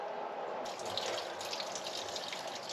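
Engine coolant from a 2013 Ford F150 pours steadily into a drain pan, a continuous close splashing gush of liquid with a bright spattering edge throughout, no talking heard.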